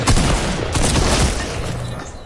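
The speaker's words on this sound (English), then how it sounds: "Oh, I got sniped from back behind!" Dense, continuous gunfire and explosive booms fill a PS4 shooter match, loud and sustained throughout, with sniper fire mixed into the steady battle din and no talking.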